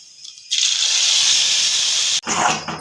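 Ground masala paste hits hot oil and erupts into a loud, steady hiss that holds for well over a second, breaks off, then surges back as stirring sizzle, close up with no talk.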